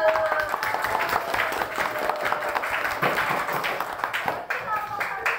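A classroom claps for a student group, a few claps blending into a busy, noisy room with some tonal sounds and voices underneath.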